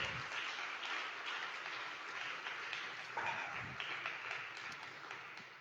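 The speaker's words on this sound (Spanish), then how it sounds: "Dale un gran aplauso al Señor" A church congregation applauds during a Sunday service, a steady wash of clapping that carries on for several seconds, fairly distant and soft, with no speech over it.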